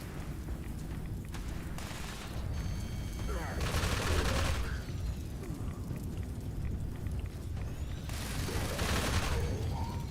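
A minigun fires in the post-apocalyptic game Fallout 76 in long, dense, rattling bursts over steady combat noise, loud and close, with a brief lull between volleys.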